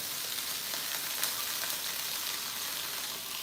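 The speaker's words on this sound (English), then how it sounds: "So I just washed my sausage and I'm going to put it in the pan" Sausage sizzling in a large frying pan, a steady broadband crackle with scattered small pops, close and continuous.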